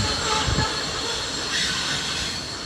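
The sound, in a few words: train passing by on the tracks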